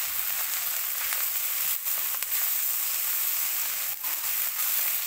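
Egg fried rice with tomatoes stir-fries in a pan, giving a loud, steady, close hiss and sizzle with a few brief dips as the food is tossed, and no talk.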